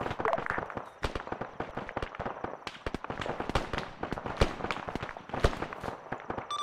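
Gunfire crackles through an Arma 3 firefight, a busy stream of sharp shots and bursts, some close and loud and others farther off, continuing without a break.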